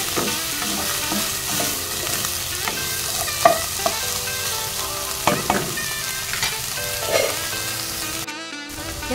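Cheese dogs frying in a pan crackle steadily as they are stirred, with repeated spatula scrapes and clinks against the pan over the sizzle and a brief cut near the end.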